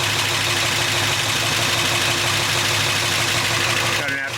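A farm truck fitted with dual exhaust idles close by, giving a steady, continuous low rumble that holds evenly throughout, with a slight shift just at the end.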